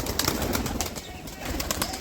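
Pigeons let out of their coop to be fed make soft rustling and light wing flutters with faint cooing, a busy, close but quiet flock sound.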